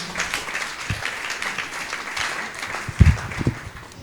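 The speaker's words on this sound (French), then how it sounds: "Acclamons très très fort pour le Dieu de l'apôtre James L." An audience applauds during a church service, and the steady, close clapping swells into a few louder bursts near the end.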